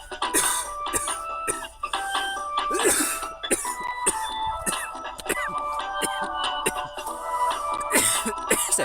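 Harsh, repeated coughing after smoking a packed bowl, a string of hacking bursts over several seconds with some background noise and little talk.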